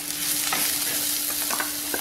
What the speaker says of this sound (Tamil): இப்போ காளானை சேர்த்துக்குவோம்.